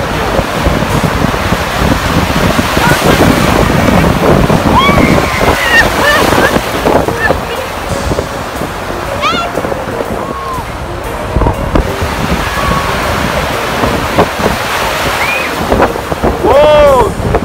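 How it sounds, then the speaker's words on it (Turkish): Big ocean waves breaking at a Sydney surf beach, loud rolling crashes and hissing surf with heavy wind buffeting the microphone, voices and shouts heard faintly over the water. "Çok büyük dalgalar geldi."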